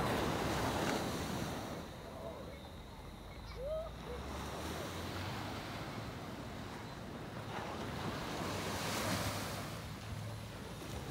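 Ocean surf washes onto the beach at Carlisle Bay, Barbados, a steady low rush of waves mixed with wind buffeting the microphone, with faint distant background sounds.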